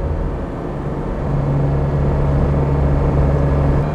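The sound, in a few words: 1954 Mercedes 300 SL Gullwing engine running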